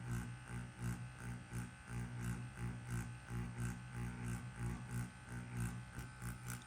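Wormhole Pro Aquila tattoo machine steadily buzzing while shading with solid black in a pendulum swing, a close, continuous electric hum with a pulsing rhythm and no talk.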